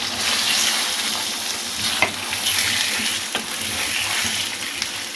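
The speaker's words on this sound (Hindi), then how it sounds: "और हाई फ्लेम पे मैं चिकन का कलर चेंज होने तक पकाती हूँ चिकन को" Chicken pieces frying on a high flame in a karahi, giving a dense, steady sizzle with occasional stirring scrapes and small clinks, close and loud with no voices.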